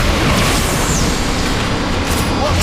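A canister blows up in the Transformers: Fall of Cybertron video game, giving a loud, dense burst of explosive noise and mechanical clatter that fills the brief moment without letup.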